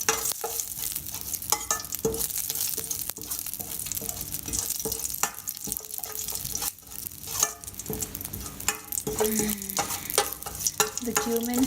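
Cumin seeds and a pinch of hing spluttering in hot oil in a pan for rajma masala, a continuous crackling sizzle broken by scraping stirs and sharp pops, close and fairly quiet.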